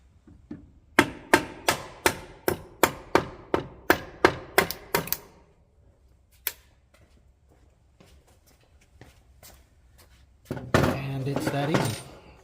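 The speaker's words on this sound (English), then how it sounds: "And again, I'm going to use a saw-faced hammer." A hammer strikes a Harley Cruise Drive six-speed transmission part to break it loose, delivering a rapid run of about a dozen sharp metallic blows, then scattered lighter knocks and a burst of clatter.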